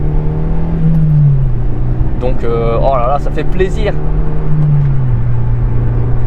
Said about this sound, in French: une petite accélération, on décrasse le moteur